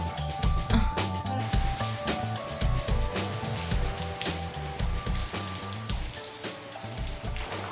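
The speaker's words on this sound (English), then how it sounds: "It just started raining really hard" Hard rain pours steadily at Fuxian Lake in Yunnan, a dense continuous wash of drops drumming close by, with a low rhythmic rumble running underneath and no talking.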